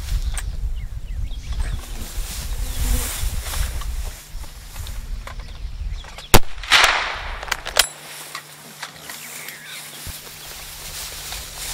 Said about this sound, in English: Shoot him again, shoot him again.